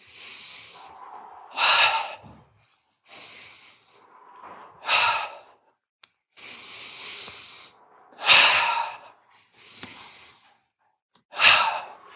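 Deep, forceful breaths from a breathing exercise come in a slow, regular rhythm, each audible inhale followed by a strong sighing exhale, close and clear with near silence between them.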